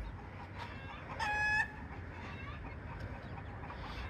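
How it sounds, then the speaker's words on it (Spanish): Backyard chickens near a bird-feeding table make a short, clear clucking call of about half a second. It rises over a steady low outdoor background and is otherwise alone. "aquí están los pollitos"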